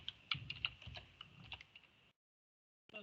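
Fingers tap out a short line of text on a computer keyboard, a quick irregular run of light clicks up close that stops abruptly, followed by a brief silence and one last tap.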